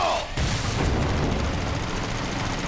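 Main cannon firing in Final Fantasy VII Remake: a dense, sustained roar of blasting gunfire and booming artillery that fills the whole clip at high level after a brief sharp onset.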